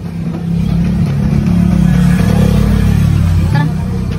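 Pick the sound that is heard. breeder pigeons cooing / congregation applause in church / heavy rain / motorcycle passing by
motorcycle passing by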